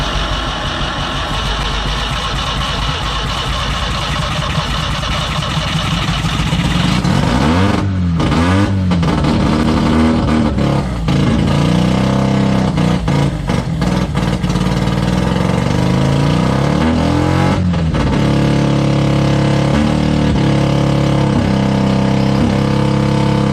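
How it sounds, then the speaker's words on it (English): A Suzuki Samurai engine cranks, catches and settles into a steady running idle, with a few sharp revs and uneven surges along the way. The engine is close and loud, and nobody talks. "The motor turned, it turned on"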